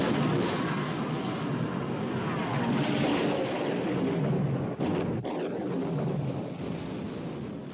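Warship guns firing in a 1960 naval battle against the Bismarck, a loud continuous rumble of heavy booms and roaring blasts with sharp cracks near the middle, no voices.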